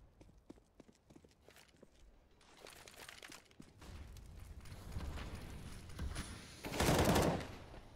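Gunfire in a Counter-Strike match on the map Train, opening as scattered sharp shots that build into denser bursts, swelling to a loud rapid volley near the end, with no talk.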